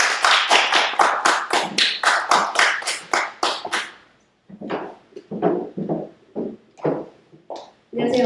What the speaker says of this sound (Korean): 따뜻한 박수 부탁드리겠습니다.